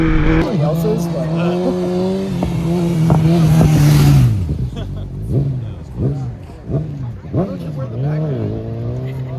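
A BMW M1000RR superbike engine revs hard while riding, loud high-pitched wails rising and falling through gear changes, with voices talking over the wind and engine.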